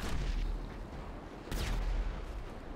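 Gunfire rattles during a strafing run in GTA 5 Online, dense booming bursts of shots with a heavy rumble and a sharp second volley midway.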